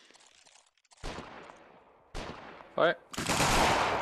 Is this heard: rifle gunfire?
yes